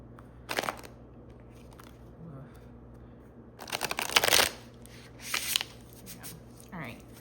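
Tarot cards being shuffled in several quick riffling bursts, with short pauses of near-quiet between them, close and fairly soft.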